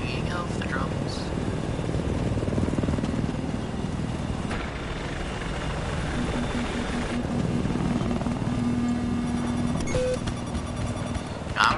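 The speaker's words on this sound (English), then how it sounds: "I'm in a chopper." A helicopter in the video game Battlefield 4 keeps up a continuous rotor and engine drone throughout, moderately loud, with someone talking quietly over it and faint in-game tones near the end.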